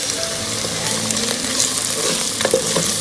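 Onions fry in a pan with garlic ginger paste, a steady close sizzle and crackle with occasional stirring scrapes of a utensil throughout.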